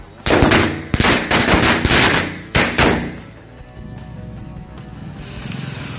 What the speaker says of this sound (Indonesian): Untuk yang selanjutnya kita nyalakan mercon korek Smoke 2 kali Bank dari Lentera.